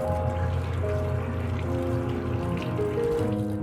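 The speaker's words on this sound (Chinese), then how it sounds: "准备一把香菜和小葱，先清洗一下" Running water pours and trickles steadily while coriander and green onions are rinsed by hand, a continuous close splashing stream with no talking.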